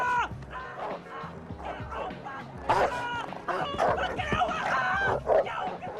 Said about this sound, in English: he yells at the dog to scare it